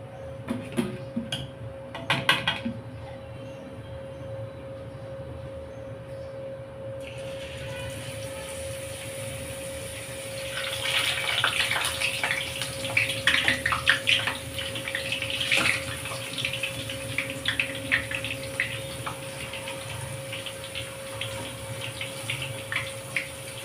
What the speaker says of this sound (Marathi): गॅसवर मी आधीच तेल गरम करण्यासाठी ठेवलं होतं. आता आपण बुंदी टाकून घेऊयात.